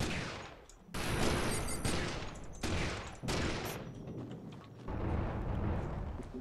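Dense bursts of gunfire in the video game Loadout, loud sustained volleys broken by brief gaps, rapid and close, with no talking.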